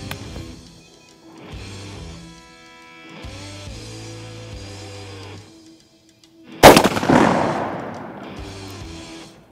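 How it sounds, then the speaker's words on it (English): A 20 gauge shotgun fires a single three-inch load of number seven turkey shot, one loud close blast with a short ringing decay, after quiet background sounds. "three inch number sevens, an ounce and a half. See how they pattern. Fire in the hole, plug your ears."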